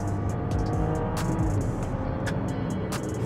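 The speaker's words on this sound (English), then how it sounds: "let's see what this inline-six 3-liter turbo has in store for us" A 2020 Range Rover HSE's 3-liter turbo inline-six drones steadily as it accelerates in third gear, a constant loud rumble with occasional sharp clicks and knocks over it.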